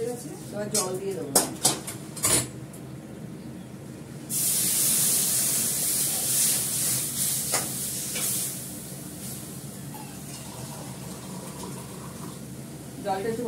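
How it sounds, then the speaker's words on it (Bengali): Water poured into a pan of lentils fried until reddish, a sudden loud hissing rush of sizzling and bubbling that lasts several seconds, with utensil clinks and scrapes before and after and a voice talking nearby. "এবার জল দিয়ে দেবো।"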